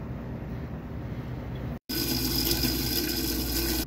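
A blender blitzes carrots with olive oil into a carrot butter, a loud steady whirring that stops briefly and then restarts harsher and louder, with no talking over it.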